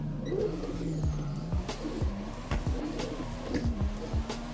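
A BMW E36 drifts in the Drift21 racing game played on a steering wheel, its engine note rising and falling repeatedly as gears are slammed, heard moderately quiet with faint background tones.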